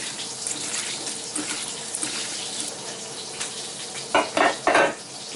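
Creole-seasoned shrimp go into a hot frying pan, giving a steady close sizzle, and a few sharp clatters near the end sound like utensils against the pan.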